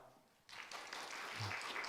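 A church youth congregation breaks into applause at a leader appointment ceremony, a sudden burst of many hands clapping that starts after a brief quiet moment and swells steadily, moderately distant.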